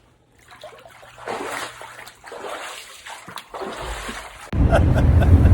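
Water runs and splashes in a flooded basement where a leaking valve packing drips, with a low trickling hiss that grows into a loud rush of splashing near the end; no clear talk is heard over it.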